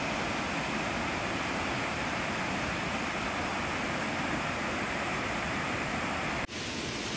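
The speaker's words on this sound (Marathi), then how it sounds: "धबधब्याचा आवाज तर येतोय राईट साईडनी." A waterfall near Khopoli makes a dense, continuous broadband roar that holds steady without a break until a brief dip near the end.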